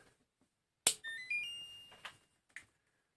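A sharp click, then a short series of rising electronic beeps and tones from a beeper used in repairing an electric kettle, followed by two brief bursts in an otherwise quiet space.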